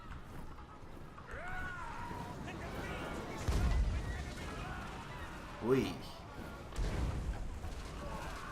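Dull booming blasts of cannon fire in Total War: Warhammer, a few separate heavy thuds over a murky background, with a brief voice exclaiming.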